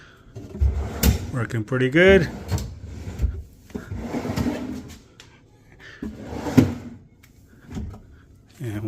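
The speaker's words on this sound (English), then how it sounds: "Then we got two drawers," Pull-out drawers on a DIY-built kitchen cabinet slide and bump shut a few times, wooden knocks and rolling scrapes mixed with someone talking nearby.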